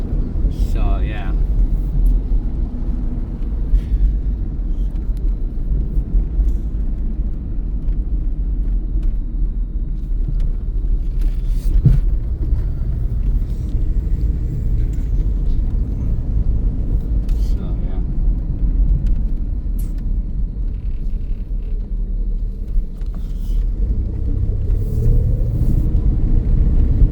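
A 1984 Mercury Marquis cruises on a sunny day, its steady low engine and road rumble running continuously beneath intermittent talking from inside the car.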